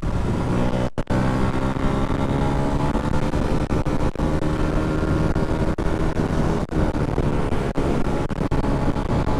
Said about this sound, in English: let's see how well the MT125 does at overtaking